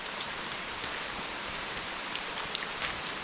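Steady rain falling on a lush forest trail beside a flooded creek, a dense, even hiss with scattered closer drops, unbroken for the whole stretch.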